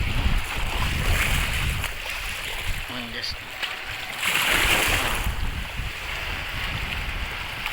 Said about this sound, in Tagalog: Sarap nagsimoy ng hangin.